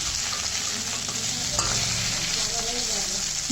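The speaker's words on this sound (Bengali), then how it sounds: "ভালো করে নুন হলুদ মেখে নিয়ে আর ভেজে নিচ্ছি" Bhetki fish head, rubbed with salt and turmeric, frying in hot oil: a steady, dense sizzle and crackle throughout, close and even, with faint stirring.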